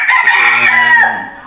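A pet fighting rooster crows once, loud and close, a single full cock-a-doodle-doo lasting about a second and a half that trails off at the end.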